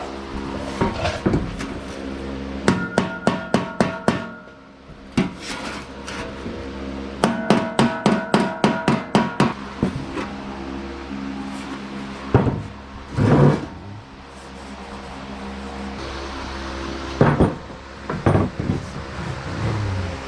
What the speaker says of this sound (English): Hit with a hammer.